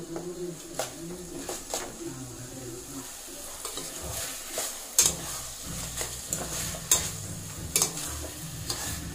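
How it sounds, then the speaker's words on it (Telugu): Chicken frying in oil for a simple chicken curry, a soft continuous sizzle broken by intermittent scraping and stirring clatter, with faint bird cooing in the background. "చికెన్ ఆయిల్లో కొంచెంసేపు వేగనివ్వాలి"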